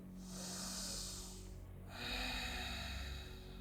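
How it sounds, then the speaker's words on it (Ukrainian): A deep breath drawn during a yoga sun salutation sequence, audible as two soft, airy breathing sounds close to the microphone, one after another, with no talking over them. "І заключний глибокий вдих."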